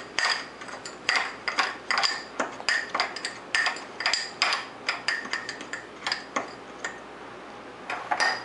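Rapid light clinks and taps of a spoon against a pot while two tablespoons of brown sugar go in, an irregular close series of sharp metallic ticks.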